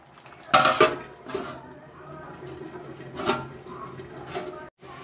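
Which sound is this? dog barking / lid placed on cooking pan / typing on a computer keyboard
lid placed on cooking pan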